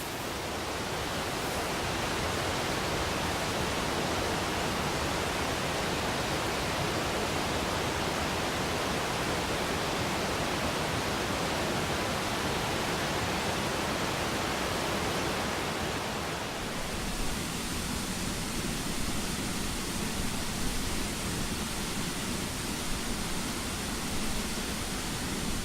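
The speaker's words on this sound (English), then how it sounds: "see if I can get behind that waterfall" A waterfall on a ridge in Kazakhstan gives a steady, dense roar of falling water, broadband and constant, changing character slightly partway through as if the position shifts, with no voices.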